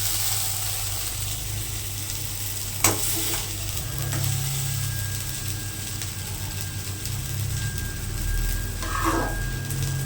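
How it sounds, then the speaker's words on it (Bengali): Soya fritters (bora) fry in a pan, a steady close sizzle of hot oil with a couple of brief scraping clinks from a utensil, no talking. "এখন এই কটা বড়া ভাজছি,"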